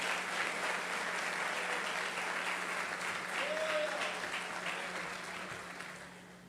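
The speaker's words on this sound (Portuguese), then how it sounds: "Vamos aplaudir a Jesus por essa vida." Steady, dense clapping from a church congregation at an evangelical service, sustained across the room and tapering slightly toward the end, with a faint voice briefly audible beneath.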